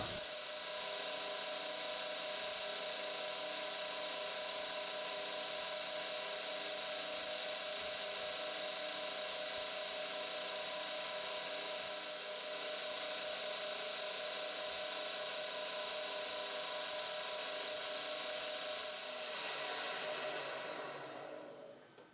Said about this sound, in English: With the sandpaper I refine and give better shape to the finial's tip.